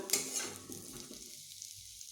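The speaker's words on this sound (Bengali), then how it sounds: "আলুগুলোকে আমি একটু বেশ বেশি করেই ভাজলাম মানে ডিপ ফ্রাই করলাম" Potatoes deep-frying in oil give a soft, close sizzle with a stir near the start, and the bubbling hiss thins out and fades over a couple of seconds.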